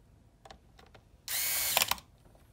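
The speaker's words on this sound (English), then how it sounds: "And reinstall the 4 screws." A power driver spins screws back in while the I/O plate cover is refitted during a P4P+V2 mod, giving one loud whirring burst of about a second, with faint clicks of handling before it.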